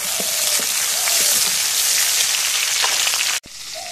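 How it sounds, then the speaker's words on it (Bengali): Onion and dried fish (shutki) frying in oil, giving a loud, steady sizzle heard close up, briefly cut off near the end before resuming. "এখন পেঁয়াজ আর শুটকি ভাজা হয়ে গেছে"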